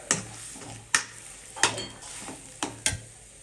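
A chilli, spinach and pea mixture fries in a pan, a low sizzle broken by several sharp spatula knocks and scrapes against the pan at irregular intervals, close by with no talking.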